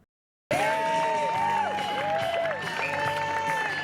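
Supporters from across West Michigan cheer at the ribbon-cutting debut of the Miracle Field ballpark for young baseball players, a loud, continuous crowd roar with whoops and shouts that begins abruptly after a brief silence.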